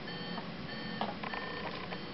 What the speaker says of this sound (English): That's your alarm going off that I am here.